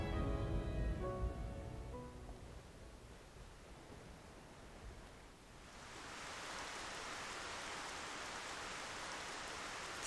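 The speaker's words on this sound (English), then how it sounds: "Seems like it'd be the rain." Rain falls in the video game Xenoblade Chronicles Future Connected, first faint under fading tonal sounds, then swelling into a steady, even hiss that carries on alone.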